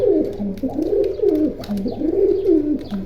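Pigeons kept for sale in Keraniganj, Dhaka, coo close by in repeated low, rolling phrases, loud and without any talk.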